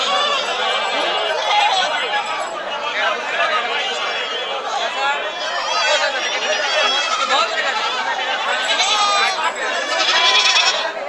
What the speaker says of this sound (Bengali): অসংখ্য ছাগল আপনাদের এক নজরে এই ছাগলগুলো দেখাচ্ছি